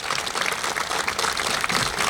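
Audience applause at a Davidson County Sheriff's Office ceremony marking the Metro Detention Facility transition: a steady, dense wash of many hands clapping at moderate distance, with no speech over it.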